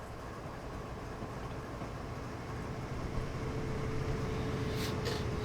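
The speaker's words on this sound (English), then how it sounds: "There's a lot of trains coming through right now." Trains pass through Marias Pass in Train Simulator 2022 with a low, continuous rail rumble that swells slightly, with faint clicks near the end and no voices.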